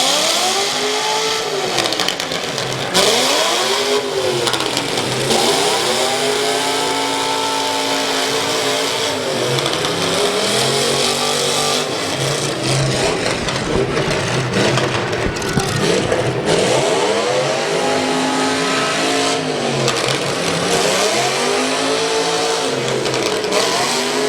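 Demolition derby cars at the Ashland County Fair, engines revving hard and repeatedly in loud rising and falling surges, with scraping and crunching of metal amid a constant roar.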